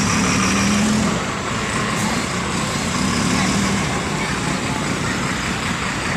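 A PMTOH bus bound from Bandung to Banda Aceh at night gives off a loud, steady engine rumble and road roar that runs unbroken throughout, with a slightly heavier surge at the start.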